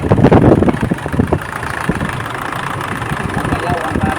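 Isuzu D-Max diesel engine idling with a steady mid-low rumble at close range, while someone talks over it for much of the time.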